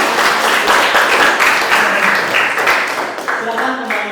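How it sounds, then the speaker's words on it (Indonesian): Classroom applause for a group that has just finished presenting, a dense steady patter of many hands clapping at close range that fades slightly toward the end. "kasih tepuk tangan untuk kelompok kalian yang sudah"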